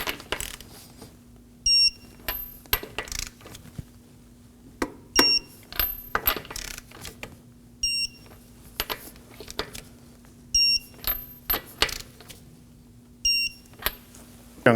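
Torque wrench tightening the front wheel lug nuts on a 2016-2020 Kia Sorento in a star pattern during a brake caliper job, giving a series of short metallic clicks in separate bursts spaced a few seconds apart, close and fairly quiet.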